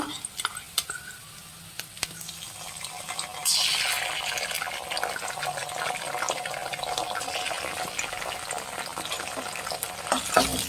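Chicken 65 pieces fry with red chilli sauce in a restaurant-style pan, a dense close sizzle that surges louder midway as liquid hits the hot oil, with scattered spatula clicks and no clear talk.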